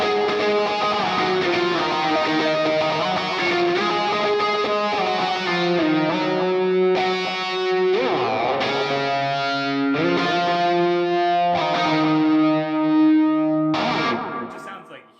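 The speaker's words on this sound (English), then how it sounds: "just like a delay with the reverb and the phase 90 or phaser" An electric guitar through a Line 6 HX Stomp with delay, reverb and phaser, playing loud sustained distorted notes and chords whose swirling, echoing tails ring out between changes before fading at the end.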